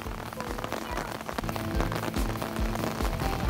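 Steady rain, growing heavier, pours down in Wright Park in Baguio City, a dense continuous patter on surfaces all around with occasional louder drops.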